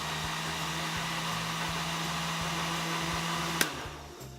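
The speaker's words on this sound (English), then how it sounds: "So put your rag on here and just give it a quick blend." A blender runs with a steady high whine, mixing oils for cold process soap, then stops abruptly with a click near the end as the motor winds down.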